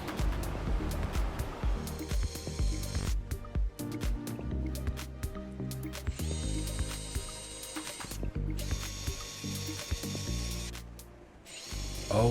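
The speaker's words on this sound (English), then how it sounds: "drill all those holes" A power drill whining in repeated bursts with start-stop pauses, drilling holes in the metal sliding-door panel of a 2020 Ford Transit van, close by, with clattering tool noises and a faint rushing background.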